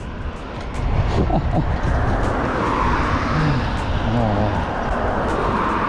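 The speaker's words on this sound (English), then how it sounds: "Yeah, a lot more cars this time than there was last time." Cars on a road sweep past one after another, a continuous rush of traffic with passing engines rising and fading, under a voice that talks over the noise.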